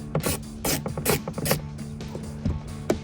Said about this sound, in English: take a 7mm socket and start removing that bolt